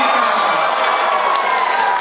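A wild crowd roars and cheers continuously around a one-on-one breakdancing battle judged by a panel, a dense, loud wall of voices with scattered shouts and no letup.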